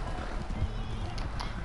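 Horse hooves clip-clop in a video game, a soft, steady trotting rhythm heard under talking.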